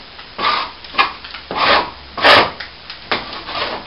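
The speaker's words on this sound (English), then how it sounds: "Yep, I'll scrape it back level first though." Scraper dragged over ceiling plaster during a repair of a hole, levelling it back, with several slow, rasping strokes about a second apart, close and fairly loud, alone with no talk.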